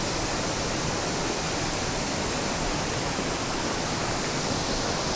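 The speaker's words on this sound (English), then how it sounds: "This is seriously one of Tasmania's best waterfalls." A waterfall at Mt Field National Park in Tasmania roars in a dense, unbroken rush, loud and close, with no other sounds rising above it.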